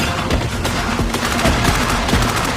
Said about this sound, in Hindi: मुझे बहुत गोलियां लग रही हैं इस वक्त